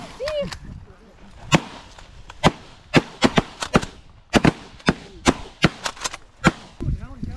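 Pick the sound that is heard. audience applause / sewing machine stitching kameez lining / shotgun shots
shotgun shots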